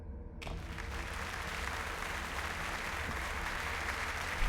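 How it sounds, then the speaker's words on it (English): Crowd applause from the video game The Last Door: The Playwright, a dense, even clapping that starts abruptly and holds steady at moderate loudness throughout, with no voices over it. "I don't know if it deserved that much applause."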